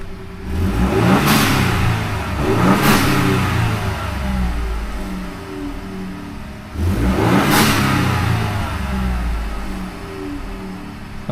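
A Ford F150 with a 3.5L or 2.7L EcoBoost engine and a Turbosmart Vee Port EM blow-off valve revs twice, each surge ending in a sharp, loud whoosh of venting air over the engine's whir.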